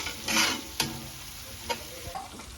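Onion, ginger and garlic frying in a pan while being stirred, with a few brief spoon scrapes over a soft sizzle, close and fairly quiet.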